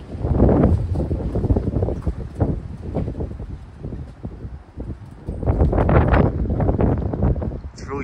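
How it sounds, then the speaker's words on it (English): Strong wind gusts blowing outdoors on a cloudy day after a storm, a loud, rough rumble buffeting close to the microphone in surges, with a brief voice heard faintly. "it's so windy out"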